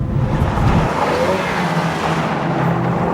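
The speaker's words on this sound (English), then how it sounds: "Under acceleration, the car is completely planted." Race car fitted with Hypercoil motion-control suspension accelerating on a track, a loud, continuous engine roar close by that holds steady throughout.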